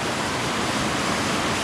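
Water from a small waterfall pours steadily over rocks in a dense, unbroken rush that stays close and loud throughout, with no voices or other sounds.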